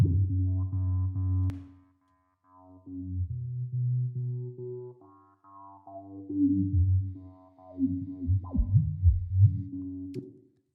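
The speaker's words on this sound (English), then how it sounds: "We're reverbing the filter, not filtering the reverb" Sustained synth tones with a smeared, washy reverb tail, swelling and fading in phrases, ending with gliding, warbling pitch sweeps.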